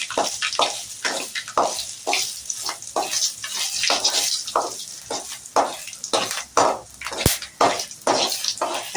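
Dried red chilies drop into spluttering mustard seeds in hot oil, tempering for a banana stem dal kootu, making close, rhythmic crackling bursts and pops in a steady stuttering pattern.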